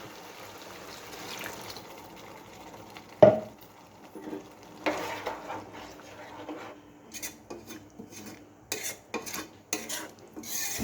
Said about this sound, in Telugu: ఇప్పుడు ఈ నీరు పోసేసుకుందాం